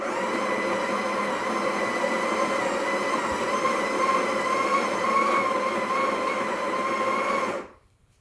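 A Breville Barista Express BES870 espresso machine grinding coffee beans: a loud, steady, close-up mechanical whir that holds for about seven seconds and then cuts off abruptly, with no voices.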